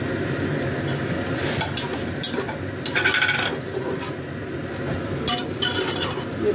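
Tomatoes tipped into a pot of softened garlic for a tinda gosht (apple gourd and beef) curry, with a spoon scraping and stirring against the pot under a faint sizzle and a few metal clinks.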